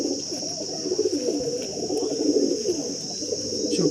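Soft, low cooing from a female pigeon at a pigeon sale, a steady murmur of coos close by with a constant high hiss in the background.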